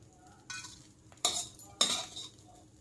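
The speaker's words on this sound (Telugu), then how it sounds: "మునగాకు వేసుకొని వేయించుకోవాలి. గ్యాస్ లో ఫ్లేమ్లో పెట్టేసి మాడకుండా వేయించుకోవాలి." Drumstick leaves dry-roast in a pan over a gas flame, heard as three separate bursts of rustling and scraping stirring with a faint sizzle between them.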